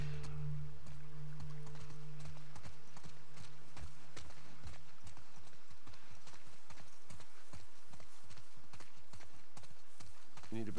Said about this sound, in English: You're gonna have to leave the horses here.